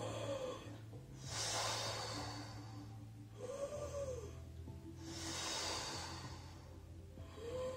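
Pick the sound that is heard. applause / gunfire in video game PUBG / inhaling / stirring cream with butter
inhaling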